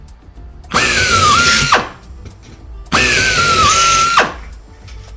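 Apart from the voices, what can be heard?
power drill drilling airplane turtle deck parts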